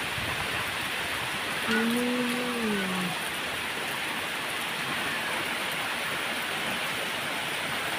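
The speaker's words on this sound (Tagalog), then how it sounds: "Ito ang nakakatakot pag malakas na ulan tapos may kasamang hangin." Heavy rain pours in a dense, steady hiss with gusty wind, and a brief low voice-like tone rises and falls partway through.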